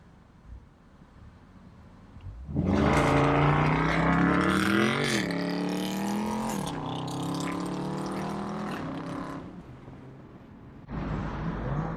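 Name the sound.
Toyota GR Corolla launching and accelerating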